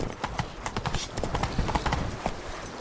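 Horse hooves clip-clop in quick, even rhythm in the game The Witcher 3: Blood and Wine, close and clear, with a brief voice and faint snorts now and then.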